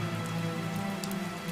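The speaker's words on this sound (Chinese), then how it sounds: "外面下雨了" Steady rain falls outside, a continuous dense hiss of drops striking surfaces, close and even throughout with no voices.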